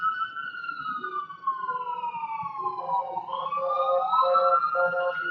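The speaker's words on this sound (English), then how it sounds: "More damn sirens." Police and emergency vehicle sirens wail in a city street, several overlapping rising and falling tones, moderately distant and steady, with faint background noise underneath.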